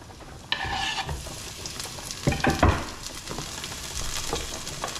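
Tomatoes sizzling and frying in a pan for clam spaghetti, a steady close hiss with bursts of scraping and stirring clatter as they are moved around, no speech.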